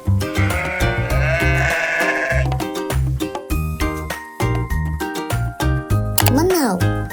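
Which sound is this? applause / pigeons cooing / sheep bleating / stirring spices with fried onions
sheep bleating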